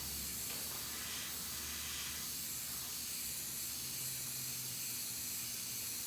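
An airbrush hisses steadily as it sprays yellow paint onto a license plate, a constant close airy spray that runs unbroken with no talking.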